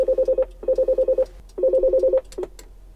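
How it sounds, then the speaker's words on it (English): Button tones from the intercom phone in a 2020 Mercedes Sprinter VIP van, fitted for calling the rear passenger cabin: three bursts of rapid, evenly pulsed electronic beeps, close and clear, with short gaps between them and a brief final chirp. "A phone for the intercom. You can actually communicate and talk with the VIP passengers behind you. And with this button you can call the VIP passengers."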